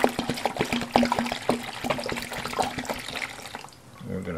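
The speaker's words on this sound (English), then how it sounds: "So, pour the water in this container." Water pours into a container for several seconds with a steady splashing gush and a few small knocks, then tapers off. A voice speaks faintly near the end.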